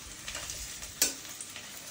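Chicken frying and being stirred in a pan on a home stove, a steady low sizzle with scraping stirs and one brief louder clatter partway through.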